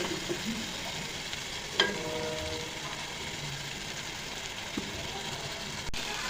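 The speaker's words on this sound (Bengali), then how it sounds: "একদম একসঙ্গে ভাজা করে নেব মশলাটা।" Whole spices and garam masala fry in hot oil in a wok for an egg omelette and potato dish, giving a steady broadband sizzle throughout, with a couple of brief clinks along the way and no speech.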